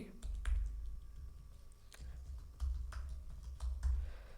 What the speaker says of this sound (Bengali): তো আমি এখানে একটা পাসওয়ার্ড দিচ্ছি।